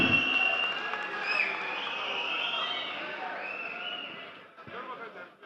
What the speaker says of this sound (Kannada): ಅವರನ್ನ ಅಭೂತಪೂರ್ವ ಚಪ್ಪಾಳೆಗಳ ಮುಖೇನ ಸ್ವಾಗತಿಸೋಣ